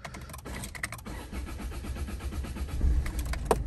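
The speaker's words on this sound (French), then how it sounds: "Elle galère un petit peu à démarrer" A used car's engine struggles to start, its starter cranking in a rough, uneven run close by before the motor catches and settles into a low rumble.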